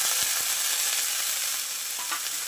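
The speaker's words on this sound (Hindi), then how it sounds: "प्याज और मिर्च भुज चुकी है, अब इसके अंदर हम पत्ता गोभी और गाजर" Onion, green chili, cabbage and carrot sauté in a pan for Maggi noodles, making a constant bright hiss of frying with faint stirring ticks, heard close and alone.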